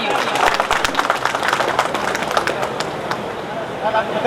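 A crowd at a former-students' reunion gathering claps, fairly loud sustained applause with dense overlapping claps, close, continuing for several seconds with voices mixed in.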